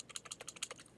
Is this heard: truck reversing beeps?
no